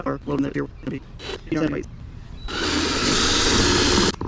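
A person speaks briefly, then a power drill countersinking holes in a kayak whirs loudly and steadily for about two seconds close to the microphone.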